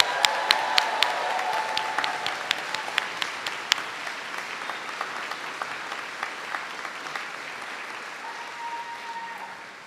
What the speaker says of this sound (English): And a round of applause for the class of 2028.